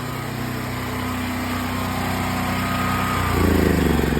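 A 12,000 watt generator engine runs steadily close by with a droning hum, and its pitch and rhythm shift toward the end.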